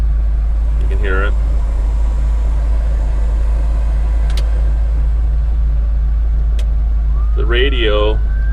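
A 1966 Ford F250 Custom Cab truck sits idling with its fan running, giving a steady, loud low engine rumble throughout, while people talk briefly over it.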